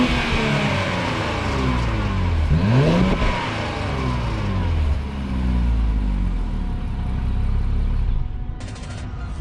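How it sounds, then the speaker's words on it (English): 2018 Infiniti Q60 Red Sport 400 with a twin-turbo 3-liter engine revving up and settling, a loud close growl that climbs in pitch, holds, then dips before rising again. "And this being an Infiniti 3-liter engine, twin turbocharged, 400 horsepower. The sounds that it makes,"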